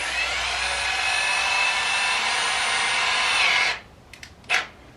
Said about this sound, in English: I'm just going to use the drywall screws, and I'm going to start some holes.